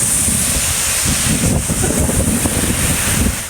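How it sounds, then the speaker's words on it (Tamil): Heavy rain driven by strong gale winds in Dharmapuri, a loud continuous roar with buffeting wind gusts hitting the microphone, close and unbroken with no voices. "சூறை காற்றுடன் கனமழை வெளுத்து வாங்கியது."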